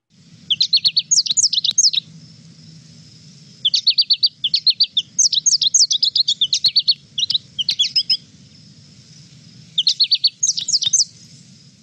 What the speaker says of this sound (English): And here's the American goldfinch.